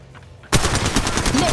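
Gunfire in Apex Legends Mobile erupts suddenly after a quiet moment, a loud rapid automatic burst of closely spaced shots.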